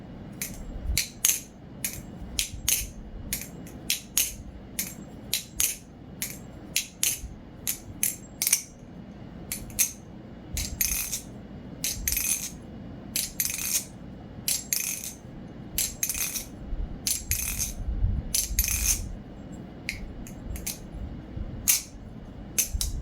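A BBBarfly Barracuda balisong flipped dry with no lubricant, producing rapid bursts of sharp metallic clicks and clacks in irregular rhythmic clusters, close and crisp against a quiet background.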